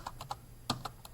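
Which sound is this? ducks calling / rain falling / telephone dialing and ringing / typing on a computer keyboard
typing on a computer keyboard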